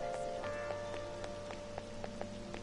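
Steady rain from the video game Persona 5 Royal, a soft even patter with light drops ticking at irregular intervals, quiet and constant with no voices.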